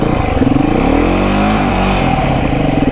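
A Beta 390 dirt bike engine revs under throttle, a steady loud mid-pitched drone that swells and eases slightly, running continuously up close with no talk.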